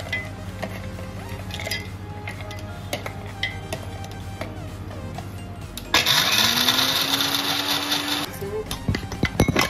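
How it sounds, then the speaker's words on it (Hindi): Cashews are ground in an electric kitchen grinder. The motor kicks in partway through and whirs up to a loud, steady drone, with lighter clatter before it starts. "अब हम काजू को ग्राइंड कर लेते हैं।"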